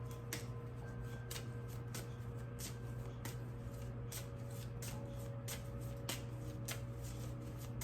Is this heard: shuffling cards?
yes